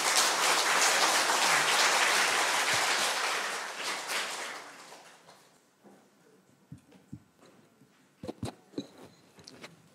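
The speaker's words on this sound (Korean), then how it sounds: "박수로 맞이하겠습니다." An audience at a philosophy lecture at Sogang University applauds loudly for several seconds, and the clapping fades out. A few scattered knocks and clicks follow in the quiet.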